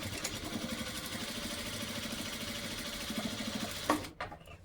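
A sewing machine stitches a quilt with a fast, steady, close mechanical chatter that stops abruptly near the end, with no talking.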